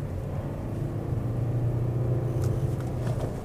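A car on Pirelli Cinturato P7 tyres accelerates along a wet test track, a steady low engine rumble and road whir building in level, with faint spray hiss toward the end and no talk.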